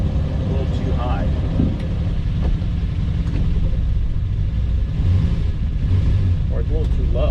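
Rosso Rubino Lusso car engine idling low and rumbling as the clutch engages, a steady close drone with voices talking over it.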